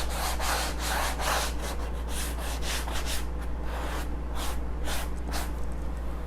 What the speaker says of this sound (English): We're gonna sand it, and this is a medium grit.